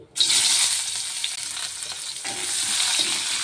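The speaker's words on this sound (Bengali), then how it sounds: "এই তেলের মধ্যে দিয়ে দেবো এখন পেঁয়াজ কুচি" Chopped onions dropped into hot oil after frying pointed gourd, a sudden burst of loud sizzling that stays steady and bright, with small shifts as the pieces settle, no voices.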